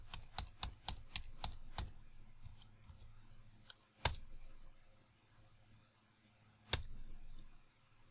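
Quiet computer keyboard typing of a password, a quick burst of separate key clicks followed by a pause and two louder isolated keystrokes.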